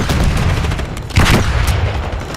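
Impact grenade going off in a multiplayer shooter video game, a single short boom about halfway through, heard over dense background game noise and scattered gunfire.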